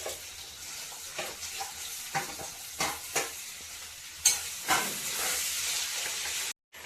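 Sabudana usal frying in a pan with oil, green chillies, cumin and potatoes: a soft steady sizzle broken by repeated stirring scrapes and hissing bursts, fairly quiet and without talk.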